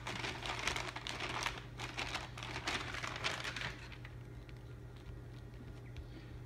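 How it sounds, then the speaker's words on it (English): Freezer paper crinkling and crackling close up as it is pressed into a hot process soap mold, busy rustling for several seconds before fading to quieter occasional crinkles. "I'm gonna take some freezer paper and kind of press this in"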